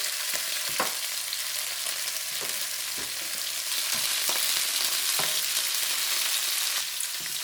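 Shrimp, about a pound of large 16/20 size, sizzles steadily in a pan for Chinese shrimp with tomato and eggs, a constant loud frying hiss with occasional sharper crackles and utensil taps, no voices.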